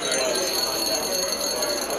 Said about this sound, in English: We've got a vibrating motor inside this bell here.